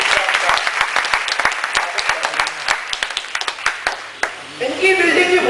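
Audience at a Hindi poetry gathering (kavi sammelan) in Pune claps steadily in a loose, uneven patter of distinct hand claps. The applause fades toward the end as a voice starts over it.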